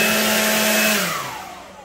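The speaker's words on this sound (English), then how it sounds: "Now I just blew out my papers all over the place" A Wild Badger Power 40V cordless leaf blower runs with a loud, steady high-pitched whine, then its motor winds down and the airflow fades toward the end.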